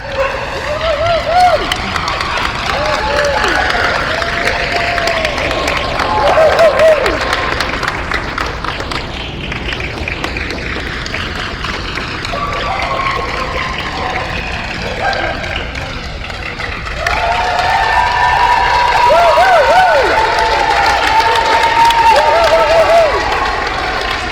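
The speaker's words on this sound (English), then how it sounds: "the crowd is really getting excited about these bitch specials" Crowd at a national best-of-breed dog show cheering, whistling and applauding through the bitch specials judging, loud and sustained, with dogs barking and yipping and voices mixed in.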